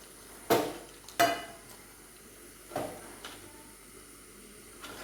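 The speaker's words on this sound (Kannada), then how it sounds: "ಚಂದ ಮಿಕ್ಸ್ ಮಾಡ್ಕೊಳ್ಳಿ ಫ್ರೆಂಡ್ಸ್ ಅರೆಪ್ಪು ಹಾಕಿ ಫ್ರೆಂಡ್ಸ್" Ground masala is stirred into a pot of Mangalore-style chicken curry, with a few spaced, sharp spoon scrapes and knocks against the pot over a quiet background and no speech.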